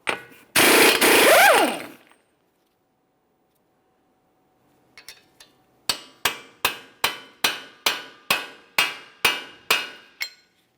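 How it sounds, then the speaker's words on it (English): Hammer and punch striking the center of a front left CV axle on a 2014-2018 Mazda 3 to free it from the wheel bearing hub: a loud, rough burst, then about a dozen sharp metallic blows in an even, steady rhythm, close up. "we'll use a hammer and punch directly in the center to break the axle free from the wheel bearing hub assembly"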